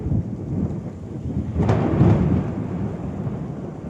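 Thunder rumbles through steady rain, swelling into a loud, close crack about halfway through before rolling off into a lingering low roar over the constant patter of rainfall.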